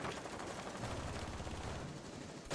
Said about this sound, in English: as you hear C75 of iBlacks going off, you hear the carbine going off